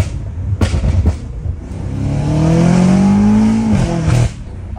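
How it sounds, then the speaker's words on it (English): BMW M5 Competition F90 with newly fitted air intakes revving up: a loud, close engine note climbs in a long sustained rise, holds, then drops off sharply, preceded by a couple of short blips. "because obviously you can hear the turbos, but you can't hear it really suck air in"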